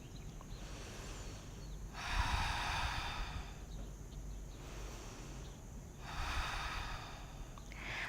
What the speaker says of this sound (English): And we're just going to take 2 deep breaths here.